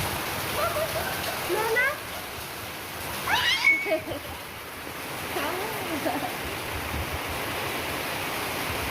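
Rain falls steadily with running water at a rural home, a constant hiss and wash, while people talk and call out over it.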